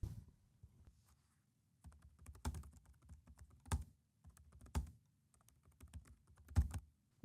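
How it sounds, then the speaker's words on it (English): Typing on the keyboard of a DIY Linux laptop, with soft, close key clicks arriving in short bursts separated by brief pauses, fairly quiet and with no voices. "Keyboard feels super smooth."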